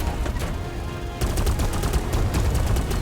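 Rapid, continuous cannon fire rattles in dense bursts in the game Warface, growing louder and sharper after the first second, like heavy automatic weapons in a battle.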